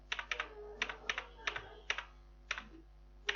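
Computer keyboard typing while entering data in Tally ERP 9 accounting software: irregular clusters of close, crisp keystrokes over a faint steady electrical hum.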